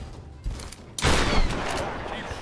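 Gunfire in the video game Tomb Raider: a short burst, then a loud dense volley of shots that keeps rolling on with a rumbling tail, close and heavy.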